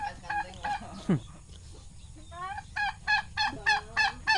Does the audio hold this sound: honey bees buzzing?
no